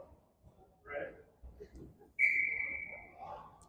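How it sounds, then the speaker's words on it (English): Referee's whistle blown during a youth hockey game, one sharp sustained blast of about a second and a half cutting in over rink noise and faint talk. "Whistle is blown."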